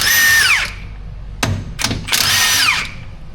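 Power tool bursts while torquing bolts on a Ford Super Duty 6.0 Eaton rear differential: a loud whirring run, two short sharp rattling hits, then another sustained whirring run, close up.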